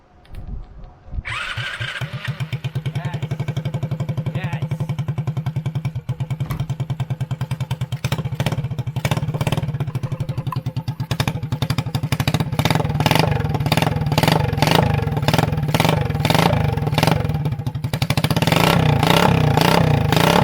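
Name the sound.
70cc Chinese quad engine running and revving after rebuild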